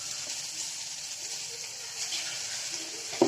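Idli batter goes into hot oil with a soft, continuous sizzle and watery hiss, fairly faint and even, ending in one brief knock.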